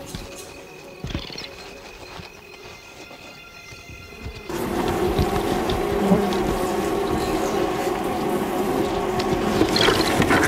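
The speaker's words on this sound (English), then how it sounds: "The bees are now stinging the most sensitive parts of the body." A swarm of African bees buzzes around a honey badger raiding their hollow log; a faint hum at first swells abruptly into a loud, dense, continuous buzzing that stays close and intense to the end.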